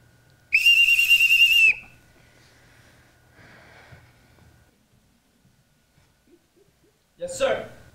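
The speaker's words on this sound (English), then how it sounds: "Everyone in this house answers to a whistle." A loud, sustained high whistle blast rings out in a school stage production of The Sound of Music, summoning the household; a short, fainter whistle follows later, with quiet stage noise between.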